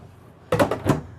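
Two quick wooden sliding thumps of drawers being pulled open and pushed shut, close by, in a quiet room inside a 2019 Thor Four Winds 31E motorhome.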